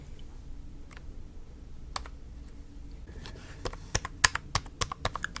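Fingers tap a computer keyboard up close in an ASMR setting, sparse clicks at first, then a quicker, louder burst of crisp keystrokes toward the end, with no talking.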